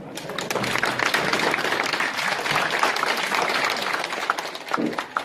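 Forum audience in a chamber of commerce hall applauding, a dense, steady wash of many hands clapping that holds evenly across the whole stretch, moderately distant and without speech.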